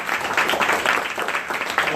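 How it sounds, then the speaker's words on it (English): A crowd claps steadily and densely, a full round of applause close by with no pause. "let's give him another round of applause"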